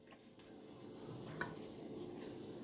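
Chopped tomatoes and onions sauté in a pan with a soft, steady sizzle that runs unbroken and fairly quiet, joined by one small clink partway through, with no talking.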